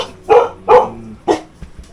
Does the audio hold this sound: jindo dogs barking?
yes